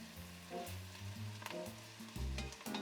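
Shredded carrots sizzle in a pot with onion, a close, steady fry under irregular knocks and scrapes as they are stirred in.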